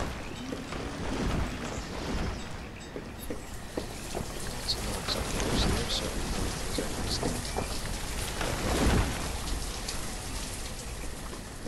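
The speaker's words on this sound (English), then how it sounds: "Nasty storm that's rolling around them." A storm in the video game Banished brings steady rain pattering on surfaces for several seconds, with occasional low rumbles, and the sound stays fairly even throughout.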